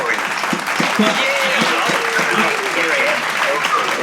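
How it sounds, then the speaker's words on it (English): A crowd in a bar claps densely and loudly for about four seconds, with voices talking over the applause. "Everybody clap."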